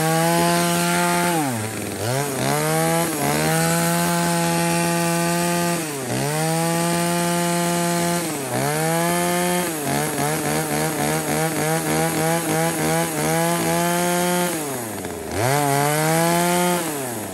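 A lightweight two-stroke household chainsaw, a used Japanese import, cuts through wood, its loud buzzing engine rising and dipping repeatedly as the chain bites and eases off, close up with no talk.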